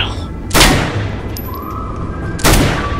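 Two loud, sharp gunshots from a game weapon in the zombie survival game Dead Frontier, about two seconds apart, each a broadband crack with a short decaying tail over a steady low background hum.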